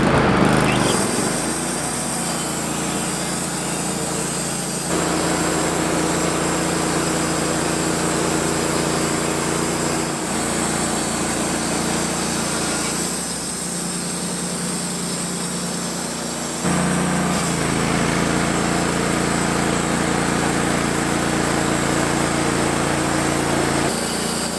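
Small engine on a sawmill cutting white oak, running steadily with a loud, constant high whine that shifts load and tone a few times over the long stretch, no voices.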